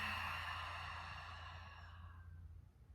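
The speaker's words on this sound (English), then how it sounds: "when you're ready, exhale it out the mouth" A long breath exhaled out through the mouth during a yoga breathing exercise, a close, airy sigh that slowly fades over a few seconds, with no talk.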